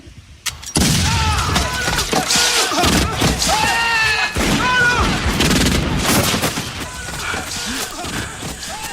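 A film battle fills with a loud, sustained fusillade of gunshots and booming blasts. Shouting voices break through amid echoing, crackling fire that barely lets up before easing slightly near the end.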